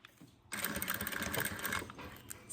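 Sewing machine backstitching through a thick layered makeup bag, a short close burst of rapid mechanical stitching after a brief quiet start.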